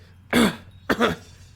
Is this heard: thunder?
no